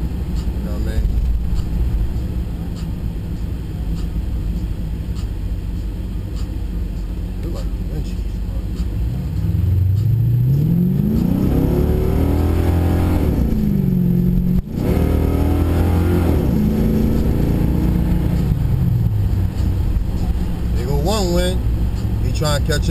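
An LT1-powered car accelerating hard while racing a 2012 Chrysler 300C: steady road rumble builds into two loud rising engine sweeps as it pulls through the power band, with a brief drop between them.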